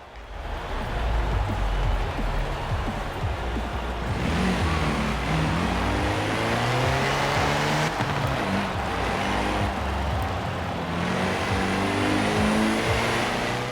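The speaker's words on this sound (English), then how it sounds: "Got some nice acceleration for a 1945 Jeep." A 1945 Willys MB Jeep in the Forza Horizon 4 racing game revs and accelerates steadily, its engine droning loud and continuous throughout with shifting pitch.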